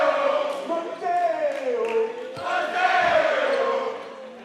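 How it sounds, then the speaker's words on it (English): A volleyball arena crowd chants in unison, sustained voiced tones rising and falling in a rhythmic pattern, with occasional ball thumps and squeaks breaking through the loud, reverberant mass of voices. "Hear the chant in the arena."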